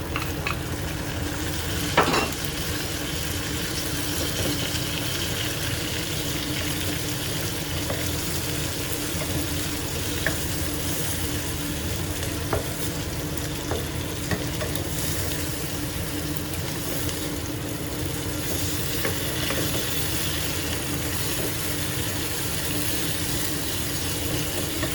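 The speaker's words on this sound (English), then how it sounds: "Once the aroma of the green onions and garlic comes out, add the chopped tomatoes and stir fry." Chopped tomatoes stir-fried with green onions and garlic in a hot pan, a steady sizzle running throughout with repeated scraping and stirring strokes and an occasional utensil clink against the pan.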